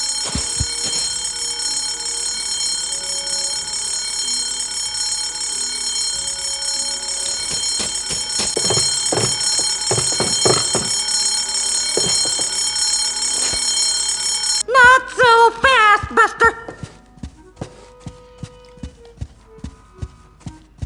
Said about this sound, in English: False fire alarms cost lives.